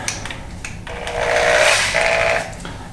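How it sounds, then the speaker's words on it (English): Power drill spinning a sanding pad over a wet, UV-damaged old headlight, a steady whirring grind that swells louder in the middle and tapers off, heard alone without talk. "you want the drill to be turning like that"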